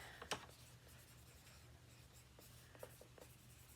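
Pen writing on matte paper, close and quiet, with soft scratchy strokes and small taps spread across the clip over a faint hum.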